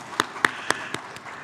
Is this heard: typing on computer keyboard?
no